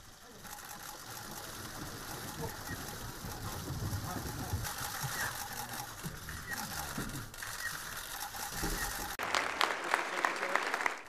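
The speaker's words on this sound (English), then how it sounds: "Rex Tillerson enters the State Department to polite applause" Polite applause fills a State Department hall as Rex Tillerson enters, a steady mid-level wash of clapping that swells near the end, with a voice talking over it.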